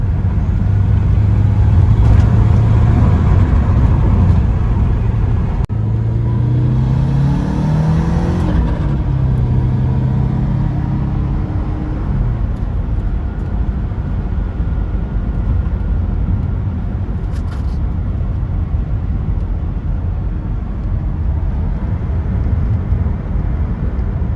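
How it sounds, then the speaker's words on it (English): A Porsche 944 Turbo engine with newly replaced fuel injectors runs loud and close throughout, with a steady low rumble and a brief rise in revs early on before it settles into an even idle. "We got the new injectors in, so we're getting ready to start it up."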